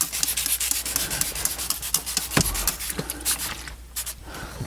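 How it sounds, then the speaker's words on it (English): A cloth rubs and wipes steadily over surfaces inside a BMW M2CS interior, removing excess cleaning product in a continuous close scrubbing swish with small irregular strokes. "Then I just wipe off the excess that's all over."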